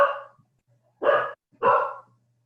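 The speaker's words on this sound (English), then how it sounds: "that's my guard dog in the background" A guard dog barks three times in the background, each bark sharp and fairly loud, spaced about half a second to a second apart, with quiet between them.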